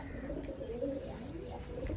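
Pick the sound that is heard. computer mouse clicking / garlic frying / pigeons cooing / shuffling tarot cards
pigeons cooing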